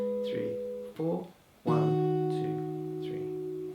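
An acoustic guitar strums a repeating chord sequence from a song, a few ringing strokes with short gaps, close and moderately loud, with no voice over it.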